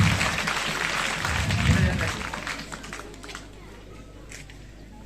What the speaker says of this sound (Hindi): जोरदार तालियों से स्वागत कीजिए काशी का।